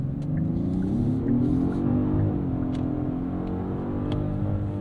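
A 2024 Genesis G90 mild hybrid luxury sedan accelerates hard in rush-hour traffic, its engine note climbing steadily in a smooth, continuous rumbling whir heard from inside the cabin, with no talking.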